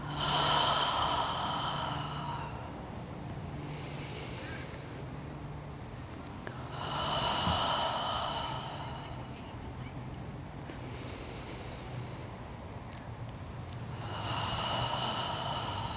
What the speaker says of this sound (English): Exhale with a ha.